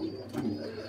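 A pigeon gives a low, soft cooing murmur in a brief one-second moment, close and moderately loud, with no talk.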